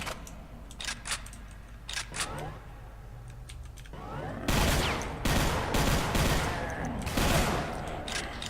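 Weapon fire in the video game Brutal Doom 64 comes as scattered sharp shots at first, then a dense, loud burst of rapid gunfire and impacts that continues to the end, with keyboard-like clicking in the background.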